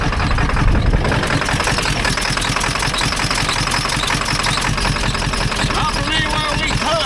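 A cranked-up engine with air in its system runs steadily, a continuous mid-pitched idle with a faint knocking texture, close and loud throughout, with light tapping sounds near the end.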